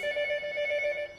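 An IP telephone rings on a GSM telephone system, a loud, close electronic trill holding a steady tone for about a second before cutting off.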